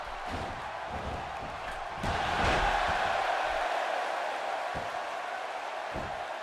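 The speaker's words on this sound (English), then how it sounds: "The crowd is buzzing." A wrestling video game crowd, WWE, buzzes as a steady, dense roar of distant voices that swells slightly partway through, with faint thuds under it.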